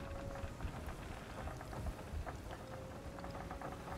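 A storm at sea in the pirate game Sea of Thieves: dense rain pattering on surfaces with low rolling thunder rumbles, steady and fairly quiet throughout.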